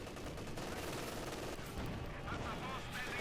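A T-34 tank fires on Grenadiers in the strategy game Company of Heroes 2, with rapid crackling gunfire and battle noise running steadily under a commentator's voice.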